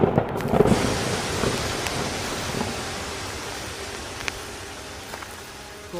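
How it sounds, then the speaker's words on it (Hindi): Heavy rain pours down steadily in a cartoon scene, a dense, loud hiss of falling water with a faint rumble near the start, continuing evenly without voices. "जब गोपाल लौट रहा था तो अचानक जोरों की बारिश होने लगी।"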